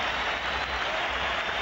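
Barcelona supporters in a stadium's top tier applaud during a Clásico against Real Madrid, a dense, steady wash of clapping from a large crowd that holds evenly throughout.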